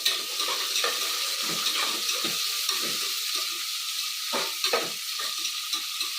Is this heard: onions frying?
yes